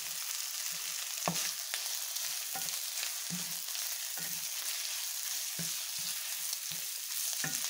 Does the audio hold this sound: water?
no